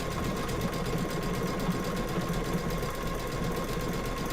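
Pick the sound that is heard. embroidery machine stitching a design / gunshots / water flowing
embroidery machine stitching a design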